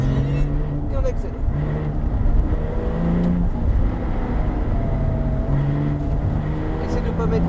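A Porsche GT3 RS accelerates on a race track, its engine droning steadily and rising in pitch under continuous spoken coaching from inside the car.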